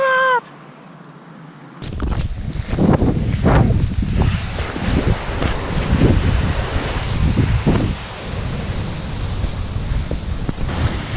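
Strong wind buffets the microphone outdoors at a birdwatching campsite, roaring in loud gusty bursts that nearly blow over a parked trike, with the broadband rumble rising sharply after a quiet start and staying heavy throughout.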